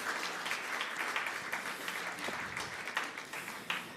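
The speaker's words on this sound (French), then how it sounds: "vous donner à vous-même une très bonne main d'acclamation" Church congregation applauding warmly during a French-language service, a steady dense crackle of many hands that holds at moderate level throughout with small swells, no talk over it.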